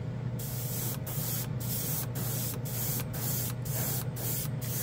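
A Patriot airbrush sprays nail polish in a steady, close hiss, interrupted by brief regular pauses about every half second as the trigger is released.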